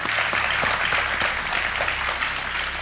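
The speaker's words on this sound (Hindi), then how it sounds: "तालियों के साथ इनका स्वागत" A game-show studio audience claps steadily throughout, a dense, even applause with no talking over it.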